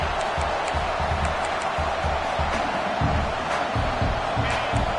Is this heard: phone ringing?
no